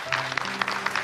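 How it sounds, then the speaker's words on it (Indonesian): Audience applause for a children's performance at an orphanage event, a brief burst of moderate clapping from a crowd. "Kita berikan tepuk tangan."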